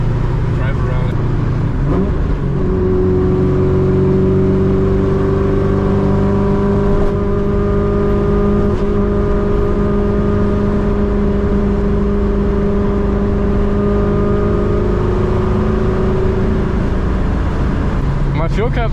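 Straight-piped 2003 Ford Mustang GT V8 under way on the road, a loud, deep exhaust drone with rising and falling revs as it accelerates and cruises, heard close from inside the car, with a voice talking briefly near the start and end.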